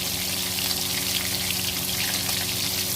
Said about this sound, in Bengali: প্যানে তেল দিয়ে গরম করে মাছগুলো ছেড়ে ভেজে